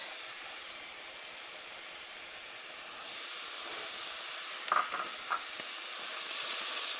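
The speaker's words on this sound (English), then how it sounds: "Onion is browning" Onions brown in a pan with a steady, soft sizzle and hiss, a few brief louder crackles and stirring scrapes breaking through near the end.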